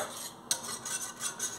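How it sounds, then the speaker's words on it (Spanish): A spoon stirs chocolate oat atole in a cooking pot, producing soft scraping swishes with one light clink, quiet and close, with no voices. "Y vamos a seguir revolviendo, bien revuelto, para que no se nos vaya a pegar"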